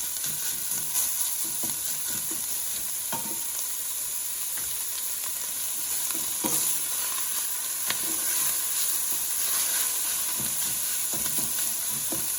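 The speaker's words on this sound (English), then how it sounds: "the sausage will give us the flavor, and it will also render some of the fat from the sausage" Sausage fries in a pan, rendering its fat for a vodka pasta sauce, with a steady hissing sizzle, scattered crackles and a few stirring scrapes, close and without talk.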